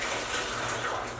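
Warm dye water runs and splashes out of hand-squeezed, dyed cotton yarn over a basin, a steady close gushing trickle throughout with no talking.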